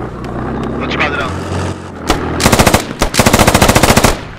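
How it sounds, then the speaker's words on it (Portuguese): Gunfire in the military video game Squad: a single loud shot, then two rapid bursts of automatic fire close by, over a low engine rumble. "Porra, ele vai atirar aqui."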